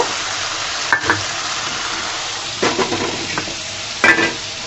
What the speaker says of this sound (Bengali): ভেন্ডিটাকে আমি ভাজার জন্য অপর চুলার মধ্যে দিয়ে দিব